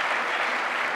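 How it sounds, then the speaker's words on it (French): Steady audience applause for a group of young Swedish performers at a French television show, dense and continuous for the full second with no voices over it. "applaudissements pour ces jeunes gens"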